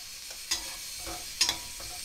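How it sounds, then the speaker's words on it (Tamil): Onions sautéing in a pan for mutton pepper masala, a quiet steady sizzle broken by two brief scraping strokes of a spatula, close and soft. "வெங்காயத்தை போட்டுட்டு ஒரு 2-3 நிமிஷம் வரை நல்லா வதக்கிக்கலாம்"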